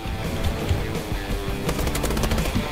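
Rapid automatic gunfire in a Call of Duty match, dense bursts of shots running steadily and loud throughout, with no talking.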